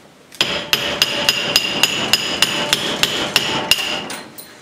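Heavy blows from a small sledgehammer strike metal about a dozen times in a steady rhythm, each a sharp ringing clang, close and loud, while forging an ulu knife.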